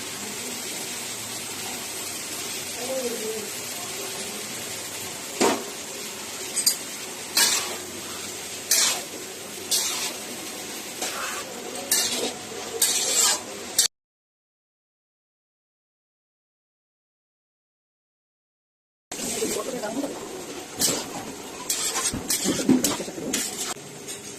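Mixed vegetables with yellow and green capsicum stir-frying in a pan for a Chinese vegetable dish, a steady close sizzle broken by repeated utensil scrapes and clinks, then a long silent gap before the sizzling and stirring resume.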